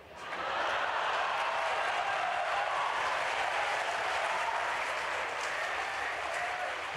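Sustained audience applause fills a hall at a literary festival conversation session, steady and dense clapping from a large crowd that swells in quickly and holds at full strength throughout, with no voices over it.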